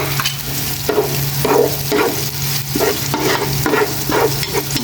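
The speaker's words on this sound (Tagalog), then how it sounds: "Mag-isa na po ako ng bawang at sibuyas." Garlic and onion sautéing in a pan for carbonara, a close, busy sizzle punctuated by regular scraping stirs of a utensil, roughly one every half second, with no voices.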